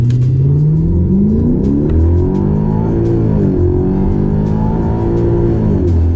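A 2012 Hyundai Genesis 5.0 R-Spec V8 with 140,000-plus miles launches from about 1,000 RPM with traction control off in manual mode, its engine note climbing loudly and steadily through rising revs with brief dips at each gear change.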